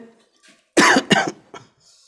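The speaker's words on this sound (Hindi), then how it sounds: "देखिए खांसी पिछले कुछ दिनों से है" A man with a lingering cough of several days coughs twice in quick succession, loud and close, followed by a softer third cough and a quiet breath.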